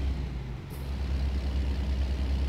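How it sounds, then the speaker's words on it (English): A Kenworth W900 with a 370 engine hauling a light trailer in American Truck Simulator gives a steady, loud low engine drone under acceleration, with a brief hiss near the start. "this thing is accelerating really fast"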